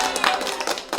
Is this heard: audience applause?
yes